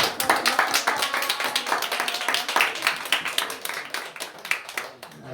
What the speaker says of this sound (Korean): 몇 달 만에 우리 다시 한번 박수로 환영합니다.